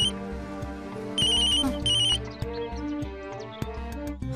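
An electronic phone ringtone sounds in two short bursts of bright tones, then fades under melodic background music and a few soft knocks.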